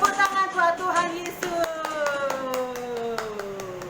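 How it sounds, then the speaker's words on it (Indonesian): A church congregation claps along to a joyful worship song, steady rhythmic hand claps over singing and a melodic accompaniment, moderately loud throughout. "Tepuk tangan buat Tuhan"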